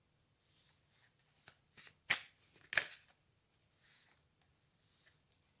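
A deck of cards shuffled for a card reading, soft riffling bursts and crisp snaps coming in short irregular spurts, close and quiet with no talk.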